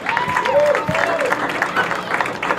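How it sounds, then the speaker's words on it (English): Crowd applause at a college football game for 2022 Aggie Hall of Fame inductees, spread-out clapping and cheering heard at a distance beneath an announcer's amplified voice. "a big round of applause for your 2022 Aggie Hall of Fame inductees"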